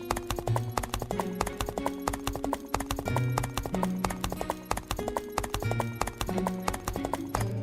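Horse hooves clip-clopping steadily as the horse is led along in a village comedy skit, an even repeated rhythm of clear hoof strikes throughout, close and distinct with background music and no talk.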